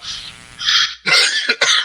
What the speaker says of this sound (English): I'm fighting a cough